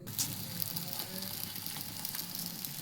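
Methi paratha frying in hot oil on a tawa, a steady close sizzle and crackle running throughout with faint soft scraping.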